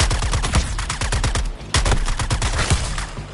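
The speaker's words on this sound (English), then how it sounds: "I'm getting shot every second" Enemy gunfire in the Suicide Squad video game, rapid loud automatic bursts hammering almost continuously, close and steady with a brief pause in the middle.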